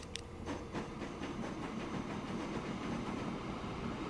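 A freight train in the railway game Transport Fever 2 rolls over track points as it switches lines, giving a steady rumbling run with a regular clickety-clack of wheels over joints, alone and without talk.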